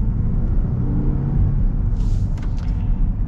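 A Land Rover Defender with a 2.0-litre four-cylinder engine pulling under partial throttle: a steady, loud low rumble heard from inside, with a faint higher rattle near the end and no voices.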